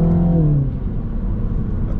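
A 2022 Mini Cooper S engine downshifts with a brief rising rev that settles into a steady, deep drone as the car pulls away, heard from inside the cabin with no speech.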